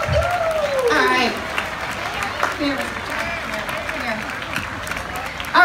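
A crowd at an outdoor Coronado concert in the park applauds the dads on Father's Day, a broad clatter of clapping that stays steady under an announcer's amplified voice and trails off as he continues.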